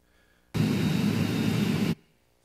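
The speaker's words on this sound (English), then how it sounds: "Plane, skip." An airplane passing overhead makes a loud, steady broadband roar that starts abruptly, holds for about a second and a half, then cuts off, with no voices.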